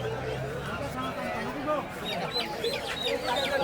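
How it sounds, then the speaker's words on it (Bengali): Chickens and ducks at a busy poultry market, with Chinese ducks, common ducks and local roosters and hens clucking and calling among the stalls while people talk nearby. "বিভিন্ন সাইজের চীনা হাঁস, পাতি হাঁস এবং দেশি মোরগ মুরগি সবই পাবেন"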